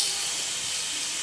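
Mustard seeds sizzle in hot oil in a pan, a steady close hissing crackle that stays constant and alone throughout.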